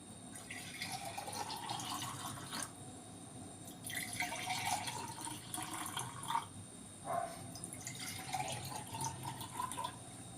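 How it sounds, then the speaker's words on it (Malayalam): ABC juice, a blend of apple, beetroot and carrot, poured from a container into a glass, giving soft liquid splashing and trickling in several bursts at close range with no talk. "ഗ്ലാസ്സിലൊഴിക്കാം നമുക്ക്."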